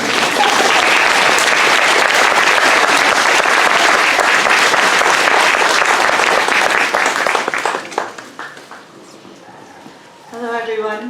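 Audience applause fills a family tribute gathering, loud and dense for about eight seconds before thinning out and fading, followed by a short stretch of quieter sound near the end.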